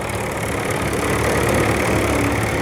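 A Leyland 154 tractor, a limited edition with gold running gear, idles at a rural Welsh vintage show, its engine holding a steady, continuous low rumble with no breaks and no talk.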